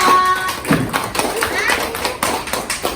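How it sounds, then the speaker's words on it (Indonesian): A small class of students gives a brief burst of scattered, uneven clapping for a presenting group, heard up close with children's voices and talk running underneath. "Tepuk tangannya buat kelompok 2"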